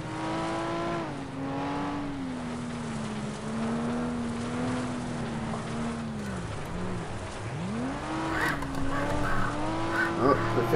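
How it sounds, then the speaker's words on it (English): A car in the racing game FlatOut fishtails and skids on a dirt road, a loud engine drone whose pitch swoops up and down with tire scrub and noise, ending in a rising rev. "Fish tailing."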